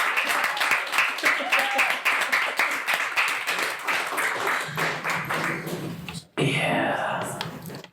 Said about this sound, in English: Big round of applause for Caitlin.